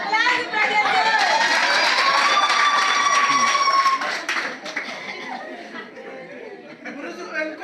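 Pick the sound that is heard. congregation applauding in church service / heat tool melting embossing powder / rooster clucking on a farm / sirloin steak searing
congregation applauding in church service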